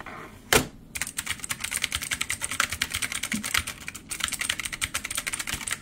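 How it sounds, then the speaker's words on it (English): Fast typing on a mini mechanical gaming keyboard with loud keys, a dense, irregular stream of close, sharp clacks with one louder knock early on and no talking. "They're loud keys because they are mechanical."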